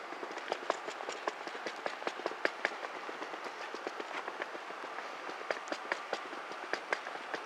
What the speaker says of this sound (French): Là il y a déjà des trains à quai